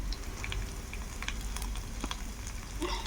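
Turmeric frying in hot oil while making aritikaya podupu, a steady close sizzle with scattered crackles and small pops across the whole stretch.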